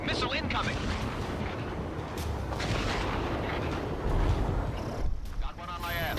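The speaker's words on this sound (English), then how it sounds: "Strider 2 struck by a missile." Missile strike on a jet in the Ace Combat 7 combat flight game, a loud rushing blast amid dense wind-like roar and explosion bursts, with brief radio-style voices in the mix.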